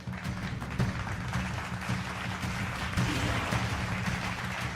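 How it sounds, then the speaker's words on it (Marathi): An audience claps to welcome a newly elected MLA at a public function, a sustained, fairly even round of applause from many hands with a low murmur beneath, no distinct speech. "सर्वांना विनंती करतो की आपण टाळ्या वाजवून त्यांचं हार्दिक स्वागत करा"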